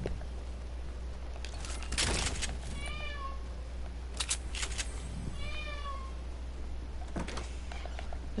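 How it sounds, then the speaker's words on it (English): A cat meows softly several times, drawn-out rising and falling calls in two main clusters with a few quieter cries, moderately near, over a steady low hum and occasional knocks in an indoor room. "I swear I'm hearing a cat."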